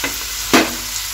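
Tomatoes and capsicum frying in a pan for chilli soybean, a brief stirring scrape over a soft steady sizzle.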